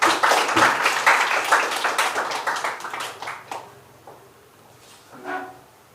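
Audience applause for a debate team in a Grade 9 mathematics class debate, dense clapping for about three and a half seconds, then tapering into a few scattered claps and faint room noise.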